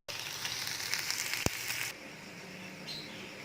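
Soft, steady sizzling of a tadka for chicken haleem frying in a pan, with a single sharp click midway; the hiss then drops to a quieter simmer.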